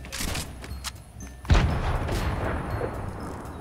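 Grenades go off during a Fortnite battle royale match. A sharp, heavy boom lands midway, followed by a rumbling, crackling tail, and fainter game noise comes before it.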